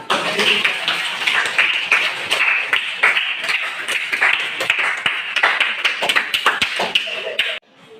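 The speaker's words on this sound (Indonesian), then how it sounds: "Boleh tepuk tangan dulu?" Children in a classroom clap hands in a steady, fast rhythm for several seconds, close and lively, with faint voices mixed in.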